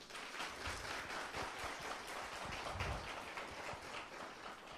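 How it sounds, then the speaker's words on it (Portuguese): Lecture audience clapping in a fairly faint, steady patter of many hands, continuous and even, with no voices over it. "Quem já está entendendo pode aplaudir."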